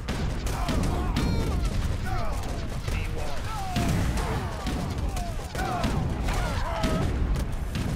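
Age of Empires III battle with grenades and gunfire: repeated bursts of booms and shots over a busy, continuous din, with a voice talking over it in places.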